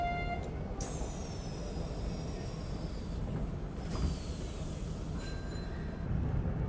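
A Hanshin 5700 series commuter train, built in 2022, pulls out of Imazu station heading downhill, heard from inside as a steady rolling rumble with faint high squeals and whines from motors and wheels.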